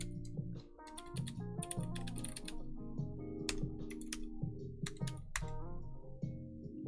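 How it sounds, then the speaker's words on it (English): A computer keyboard clatters with quick, irregular keystrokes in bursts, close and fairly loud over a steady background hum. "You can hear my keyboard a lot louder"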